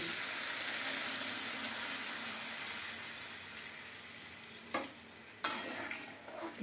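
Potatoes and vegetables stirred in a pan with water for a Sundarbans river khoira fish curry with aubergine, a steady simmering hiss that fades, then two sharp scraping stirs near the end.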